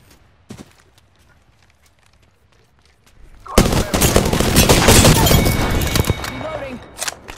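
Gunfire in Apex Legends: after a quiet start with a few isolated clicks and pops, a sudden sustained burst of loud rapid shots erupts and continues, dense and close, gradually easing off.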